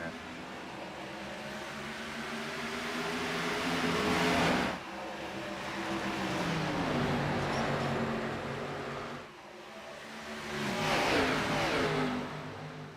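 Race car engines roar in an iRacing NASCAR Xfinity Series race at Darlington, sustained revving that swells and drops as cars pass, with a commentator talking over it.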